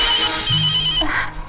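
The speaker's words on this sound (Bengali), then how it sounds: "নিশ্চয়ই এসপি সাহেবের ফোন।" A mobile phone rings up close with a loud electronic ringtone melody, a short bright tune that cuts off after about a second and a half.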